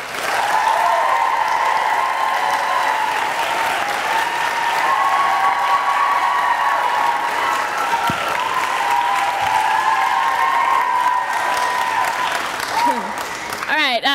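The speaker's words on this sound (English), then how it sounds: "I'll give it up for the birthday girl, Madeline Walker Davies." Audience at a senior speech event breaks into sustained, loud applause and cheering after an introduction, steady clapping for about thirteen seconds with some whoops and voices mixed in.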